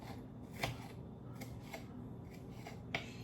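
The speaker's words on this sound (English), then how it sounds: "I'm going to go ahead and cut that up into some small pieces" Knife chopping seeded, deveined fresh green chili into small pieces on a cutting board, a series of sharp, quiet, irregularly spaced cuts against low room noise.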